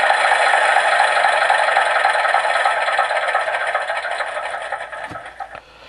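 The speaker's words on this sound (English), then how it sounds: "we can turn the engine off. It's a lovely little recorded sequence" Recorded engine shutdown sequence from the sound module of a radio-controlled G scale Goose model railcar: a rattling, whirring idle that runs down and fades, ending with a couple of clicks.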